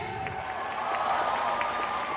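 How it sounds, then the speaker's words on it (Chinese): Warm applause from the audience at Yuan Ze University's graduation ceremony, a steady, continuous wash of clapping filling a large hall, moderately loud with faint crowd murmur beneath. "再次以热烈掌声感谢周维廷。"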